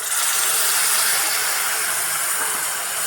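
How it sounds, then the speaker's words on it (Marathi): A loud, steady hiss of steam rises as water hits a hot pan of egg keema masala, filling the whole moment with an unbroken sizzling rush up close. "याच्यात अर्धा कपाला थोडंसं कमी असतं पण पाणी टाकूया"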